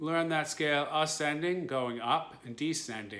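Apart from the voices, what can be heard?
No everyday noise stands out behind the speech.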